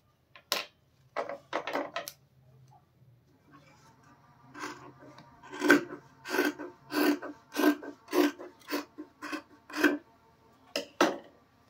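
Denim jeans fabric being cut, a run of crisp, evenly spaced snipping and rasping strokes, close and fairly loud, preceded by a few quieter handling sounds.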